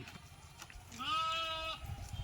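A goat in a passing flock of sheep and goats gives a single wavering bleat lasting about a second, fairly faint over low rumbling background noise.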